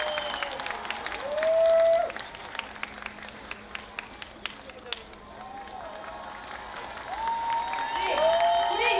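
A crowd applauds at an outdoor political campaign rally at Gwanghwamun, with a loud burst of clapping early on, then scattered claps and cheers under amplified announcements and music.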